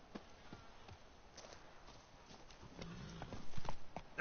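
A horse's hooves clip-clop in The Witcher 3 game, a soft steady walking rhythm under low background ambience, growing a little louder toward the end.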